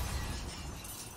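Window glass shattering in Resident Evil Village, a short loud crash with a scattering of breaking shards that quickly fades.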